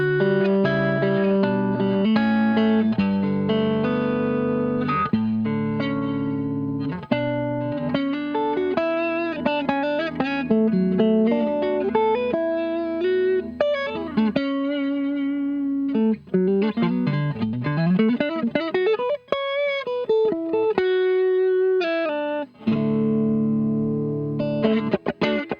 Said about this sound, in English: With the hypergravity, the amps, the cabs, the LE2A at the end, this is how the signal chain sounds like now.